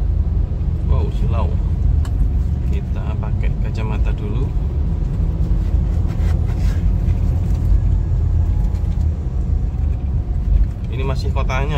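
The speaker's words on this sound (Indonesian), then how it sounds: "Nah itu ada mobil masuk dari jalan itu tuh jalan lingkar luar itu." Steady traffic roar on a busy town road on the Pantura route between Pasuruan and Probolinggo, continuous low rumble of passing cars close by, with a voice talking over it throughout.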